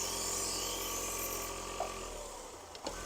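A belt grinder on a fairly new 400-grit belt sharpens a badly worn Global kitchen knife blade, giving a steady, bright whirring grind that eases off slightly toward the end, with a couple of light ticks.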